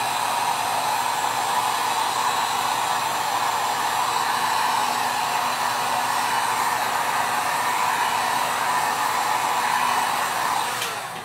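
A handheld heat tool blows continuously close by while heat setting printer ink on homemade decoupage paper, a steady loud whooshing hum with a tonal whine, running unbroken before cutting off at the end.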